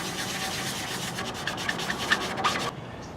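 Steady dry rasping of a sanding block rubbed back and forth over Bondo filler on a motorcycle fuel tank, close and continuous, stopping abruptly near the end.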